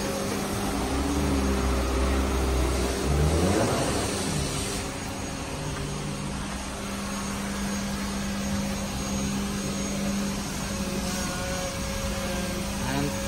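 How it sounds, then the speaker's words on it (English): Steady, loud whine of a vacuum cleaner working inside the cabin of a Perodua Myvi, droning continuously with a brief surge in the first few seconds and no speech. "Ni standby vacuum, nak vacuum dalam."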